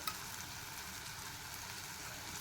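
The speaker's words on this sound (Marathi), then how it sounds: "मिक्स करून घ्यायचं आहे खोबरं चांगलं" Grated coconut being stirred into a Malvani tomato curry in a pan, heard as a quiet, steady hiss of sizzling with faint scraping, close and without speech.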